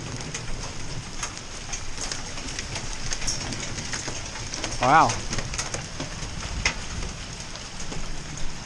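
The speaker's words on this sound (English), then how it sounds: "I'm testing my downstream, and it's starting to hail." Hail starting to fall outdoors, gooseberry-sized stones making a steady broadband patter and clatter throughout, with a brief exclamation from a voice partway through.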